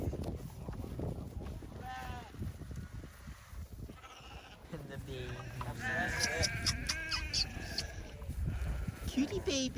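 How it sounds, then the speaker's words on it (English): Cows and their calves low and bleat repeatedly from a farm pasture, several drawn-out calls rising through the middle and end, with people talking over them. "Cows are making a lot of noise down there."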